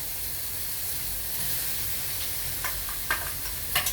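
Crushed coconut stirred into a drumstick flower thoran in a pan, with a soft steady sizzle and hiss under faint scraping strokes that sharpen into a few brief clinks near the end.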